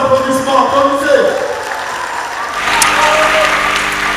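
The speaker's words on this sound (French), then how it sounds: "Le ministre-gouverneur n'entend pas les applaudissements, applaudissez." Applause from a festival panel audience breaks out around midway and carries on steadily, filling the space after a voice speaks over a quieter opening.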